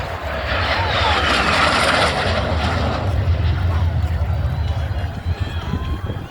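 Vintage two-seat jet trainer with twin wingtip tanks, descended from the P-80 Shooting Star, roaring loudly as it passes, the engine noise swelling then slowly fading, with someone talking over it.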